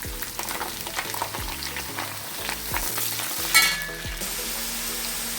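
Green chilies and onion sizzle and fry in hot oil for a beef curry, a steady crackling hiss with occasional spoon scrapes against the pan, close and alone with no talking.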